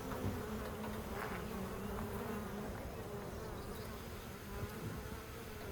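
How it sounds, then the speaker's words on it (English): A swarm of bees hanging in a tree branch, a dense, steady buzzing hum heard close and continuous throughout, with no voices. "keep the bees from getting too close for comfort"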